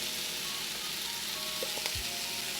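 Chopped peppers and onions sizzle and fry steadily in a pan for chili, a close, even crackle with a faint stirring scrape and no talk.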